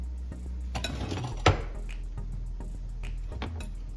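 A metal lid lifts off a pot of degi chana pulao cooked on a medium-to-low flame, giving one sharp clink near the middle and a few lighter metallic taps over a steady low background hum.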